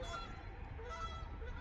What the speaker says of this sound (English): You hear that goose up on a roof?